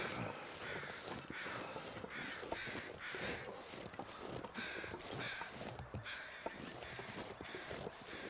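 Crows caw repeatedly in the wintry survival game The Long Dark, the harsh calls rising at irregular intervals over a steady wind-like ambience, all fairly faint and distant.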